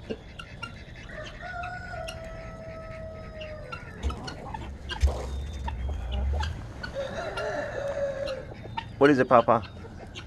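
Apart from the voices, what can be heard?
ducks quacking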